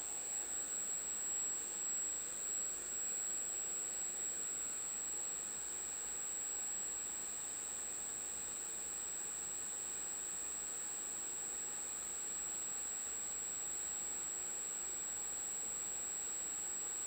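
An electric ducted fan spins at a constant test speed on a balancing rig, producing an unbroken jet-like roar with a sharp high whine held steadily throughout, close and loud with no voices.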